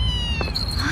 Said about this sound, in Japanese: かわいい猫ちゃんね。